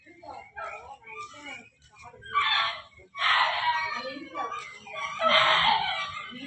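Chickens cluck and a rooster crows in a poultry shed, with loud bursts of fowl calls rising over a busy background of birds, while a person talks nearby.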